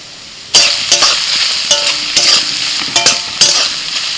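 Onions fry in a pan with bay leaf, cardamom, cinnamon and cloves: a steady close sizzle broken by several sharp stirring scrapes at irregular intervals, with no voices.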